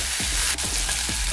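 Field beans dropped into a hot oil tempering of mustard seeds and cumin, for jowar rava kadubu: a loud, dense, continuous sizzle with faint rhythmic stirring scrapes underneath, close to the pan.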